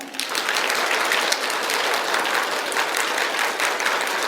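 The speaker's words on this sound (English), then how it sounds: "Otherwise, start clapping." An audience at a mentors' navigation workshop in Hyderabad bursts into dense, sustained applause that holds loud and even from start to finish, with no voices above it.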